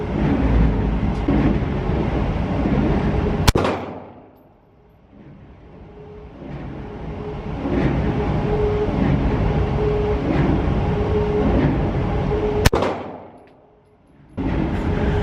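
Two sharp SIG P365 pistol shots at a target, each a single loud crack followed by a quick drop to near silence, with steady background noise between them.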